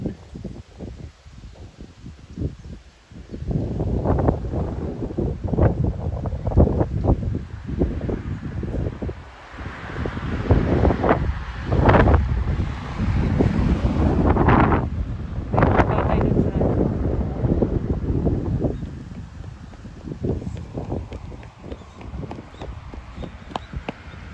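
Strong, cold wind gusts through a park, roaring steadily with surging buffets against the microphone, along with rustling and faint footsteps.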